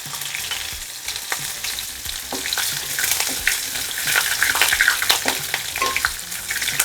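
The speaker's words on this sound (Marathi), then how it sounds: "हे शेंगदाणे थोडे चांगले फ्राय होऊ द्यायचे." Peanuts frying in oil in a pan along with mustard seeds, cumin and chillies, giving a steady close sizzle with crackling pops and occasional spoon scrapes throughout, no voices.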